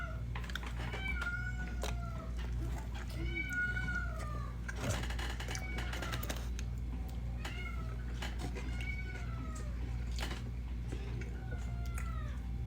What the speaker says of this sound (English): the comments were saying how they never heard a cat sound like that